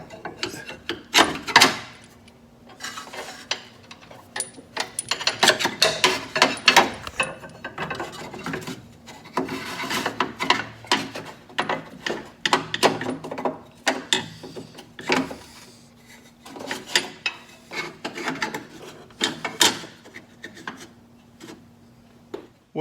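Metal sway bar brace sliding into place on a vehicle, a long run of rasping, scraping metal-on-metal rubs with clicks, repeated in uneven bursts close up, no talking.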